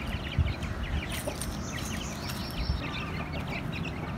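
Chicks chirp and chickens cluck in scattered calls over a low background rumble, moderately close.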